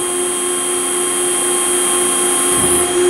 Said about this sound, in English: Hydraulics sound really nice.